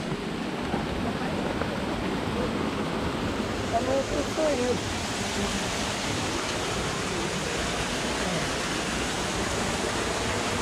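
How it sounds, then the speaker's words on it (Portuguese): Natural spring water pours steadily from rock, a constant broadband rush like a small waterfall, close and continuous throughout, with a brief quiet voice speaking partway through. "Ponte de água natural saindo de rocha. Ponte de água passando, refresca o ambiente."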